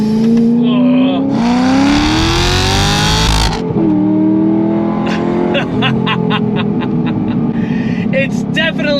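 Chevrolet Corvette C6 Grand Sport engine revving hard as the car accelerates on a drive, its pitch climbing steadily through the gears, loud and close from inside the cabin with a sharp shift break midway.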